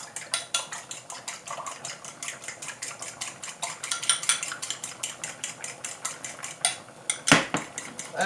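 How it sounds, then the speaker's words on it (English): An egg is beaten in a bowl with a utensil, producing rapid, regular clinking taps against the bowl's side, close and crisp, with a louder clatter near the end. "And now I'm going to beat the egg."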